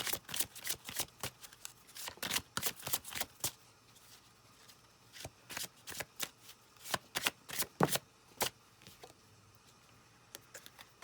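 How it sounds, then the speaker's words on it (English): Tarot cards being shuffled and pulled, giving crisp repeated riffles and slaps in irregular bursts, close and fairly quiet, with brief pauses between handfuls. "Let me just pull some more cards."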